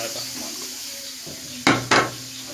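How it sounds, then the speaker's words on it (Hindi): Onions are tipped into a kadai in two quick, loud bursts of rattling and scraping over a low background hum. "कढ़ाई के अंदर हम डालेंगे प्याज"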